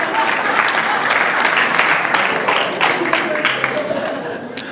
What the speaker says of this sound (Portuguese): Mas uma salva de palmas.